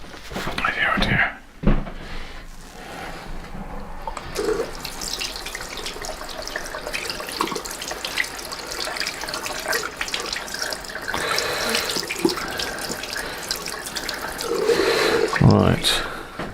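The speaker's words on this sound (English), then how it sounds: "Just got to get a bit of water a minute and wash my brush out" A tap runs water into a sink for washing out a brush during repair of a 1969 Fidelity RAD15 transistor radio, a steady close splashing flow with clunks and drips, while someone talks quietly throughout.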